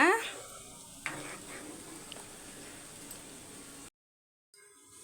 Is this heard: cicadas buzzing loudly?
no